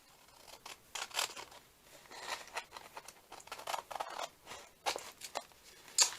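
Scissors snip along the bottom edge of a paper craft page, a series of short, close cutting bursts spaced irregularly with brief pauses, quiet and alone with no talking.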